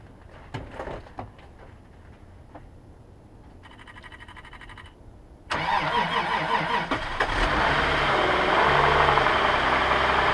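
A car engine cranks and catches on a Tacklife T6 jump starter left frozen overnight at about 19 degrees, after a few faint clicks and a brief buzz, then settles into a loud, steady idle close by.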